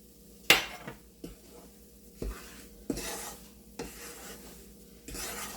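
Flour being stirred and roasted with a half spoon of cashew powder in a pan while making jaggery sukhdi, a series of soft scraping strokes about once a second, close and fairly quiet with no talk.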